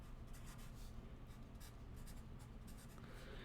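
Math problems written out by hand, a soft steady scratching of pen or pencil on paper with small strokes, close and quiet, no voice.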